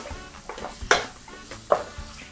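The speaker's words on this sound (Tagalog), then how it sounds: "Then, stir for 2 to 3 minutes." Green chili being stirred in a pan for a chickpea curry: soft sizzling under a utensil scraping and clinking against the pan, with two sharper knocks standing out over a gentle frying bed.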